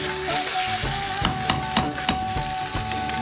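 Chicken karahi gosht sizzles and fries in a pan while a metal-bottomed spatula stirs it, giving a steady hiss broken by several sharp scraping knocks at an uneven pace, close and alone without talk.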